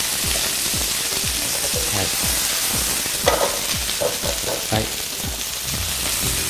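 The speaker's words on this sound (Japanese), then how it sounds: "少しずつ足しながら炒めてください。" Vegetables stir-fried in oil in a wok for a starchy chop suey rice bowl, giving a continuous loud sizzle with repeated scraping stirs of the spatula, while a voice speaks briefly.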